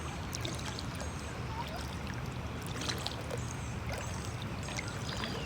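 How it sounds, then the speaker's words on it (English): A canoe paddled on calm water gives soft, repeated watery swishes and trickling drips from alternating strokes, faint and close over a quiet outdoor background, with no talking. "And I'm now going to paddle right, left, right, left."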